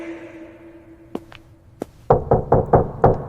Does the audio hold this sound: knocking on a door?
yes